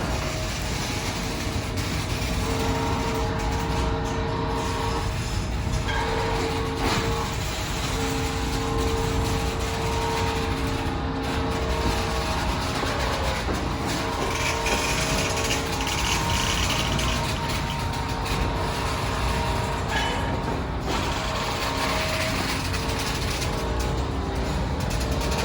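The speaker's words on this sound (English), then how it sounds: "Just going to turn our carousel on here so you can get an overall view of the vehicle." A motorized display carousel rotates a 2013 Toyota Highlander, giving a continuous mechanical whir and hum with faint ratcheting ticks, steady and moderately loud throughout.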